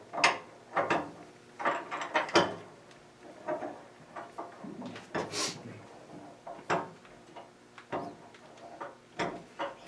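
A Nova tool rest post is worked toward its hole, producing repeated scraping metal knocks and rattling clunks in uneven bursts, close and fairly loud, with no talking.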